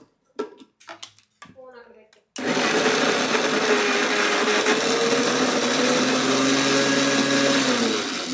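Mixer grinder (mixie) running in a home kitchen while grinding mango and toor dal, a loud steady whirring motor hum that starts abruptly after a few brief clinks and handling sounds and continues alone.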